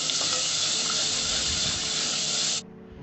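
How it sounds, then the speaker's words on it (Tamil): Ground masala paste sautés in hot oil for tomato rasam, a loud, steady frying sizzle that stops abruptly near the end. "எண்ணெயிலேயே மசாலா வந்து நல்லா இந்த மாதிரி ஒரு 2 நிமிஷத்துக்கு வதக்கிக்கலாம்."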